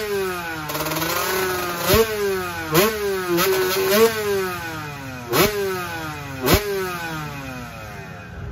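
A two-stroke 125 motocross bike engine revs hard again and again, each blip rising and falling in pitch with a raspy, ringing tone, punctuated by sharp pops between revs, loud and close with no talking.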